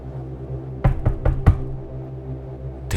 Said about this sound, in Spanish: eran las 3 de la mañana cuando llamaron a la puerta